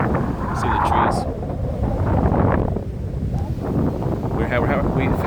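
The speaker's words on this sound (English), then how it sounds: "the wind is gusting" Gusty offshore wind buffets the microphone outdoors among trees, with loud, uneven rushing surges that rise and fall over several seconds.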